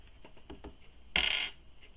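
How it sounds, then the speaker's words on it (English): A sewing clip snaps onto folded fabric edges lined up along a center seam while a small crossbody bag is assembled: one short, sharp click of moderate loudness after a few faint handling taps, close by with no talk. "I'm going to put a clip over it."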